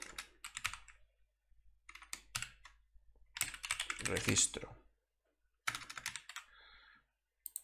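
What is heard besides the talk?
typing on a computer keyboard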